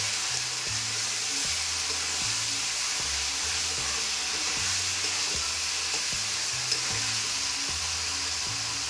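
Masala for a shol fish curry with potatoes sizzles in oil as it is stirred, giving a steady hissing fry with faint scraping, over a low pulsing hum; close and even, with no speech.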